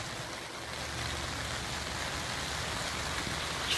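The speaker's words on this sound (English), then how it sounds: "It's freaking raining." Steady rain pours down in a continuous hiss, drops pattering on surfaces nearby with no pauses and no voices.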